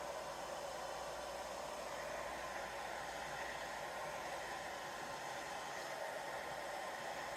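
A hair dryer blows continuously on painted strawberry rocks, giving a steady, even whooshing hum with no breaks that holds for the whole stretch.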